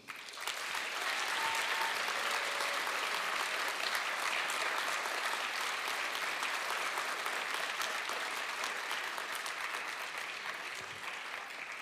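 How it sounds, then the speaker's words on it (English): A large crowd at a closing ceremony of an international science olympiad in Riga, Latvia, gives sustained applause mixed with cheering, dense and unbroken for about twelve seconds in a big hall. "You can hear that the applause are joined by cheers that are getting louder and louder."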